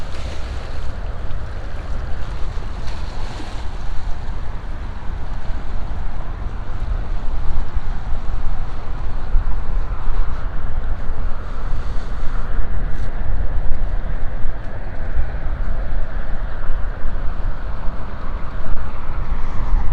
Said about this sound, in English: Oh, I hope you're picking up the water sounds.